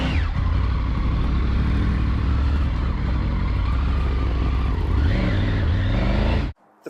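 A 2021 Triumph Tiger 850 Sport motorcycle rides off-road in first gear, its engine droning loud and steady up close with small surges as the clutch is worked, then cutting off abruptly at the end.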